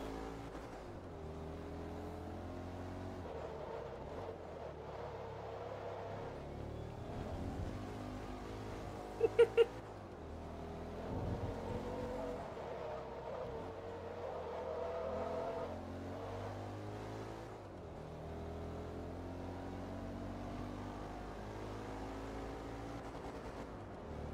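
Audi race car in the video game Forza Motorsport 2, its engine droning and revving fairly quietly with rising and falling pitch as gears change, plus a couple of sharp clicks partway through.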